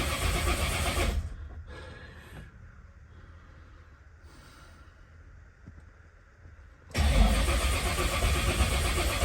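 A supercharged 1957 Chevy Gasser engine: a loud burst of cranking and running that drops into a few seconds of low, quieter engine sound, then roars back up loudly again.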